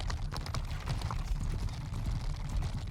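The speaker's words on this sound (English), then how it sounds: "So we've got horse archers just following behind me." Horse archers' hooves in Bannerlord give a steady, dense clip-clop of many horses following close behind, with continuous low rumbling and no speech.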